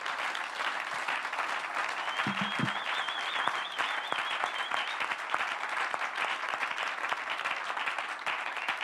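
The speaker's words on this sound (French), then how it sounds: "Let us give them a hand." Congregation applauding steadily throughout at a church dedication service, dense continuous clapping from a crowd with a faint sustained tone and brief voices mixed in.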